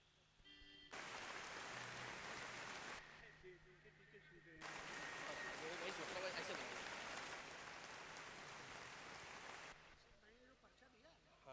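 Applause for the cameraman at a Hindi poetry gathering (kavi sammelan) in Mallawan, Hardoi: two broad bursts of crowd clapping, the second longer and louder, with speech before and after.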